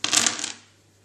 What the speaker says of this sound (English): you give them a good roll